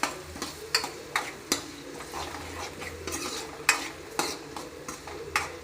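Green chillies fry in a pan while a utensil stirs them, with repeated sharp scraping clanks at an irregular rhythm over a soft background sizzle, close and fairly loud.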